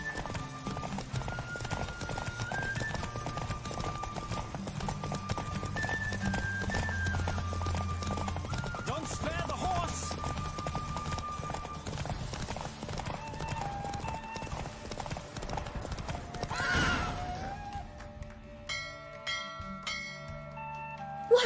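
Horse hooves gallop in The Witcher 3 during a horse race, a fast steady clip-clop rhythm under music that continues until the pace breaks off near the end.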